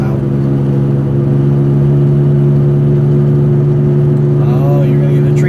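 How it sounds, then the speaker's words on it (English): Loud, steady engine and road drone from a car driving along a road through California's redwood forests, a constant close-up hum with no breaks throughout. "Sorry for the really loud road sounds."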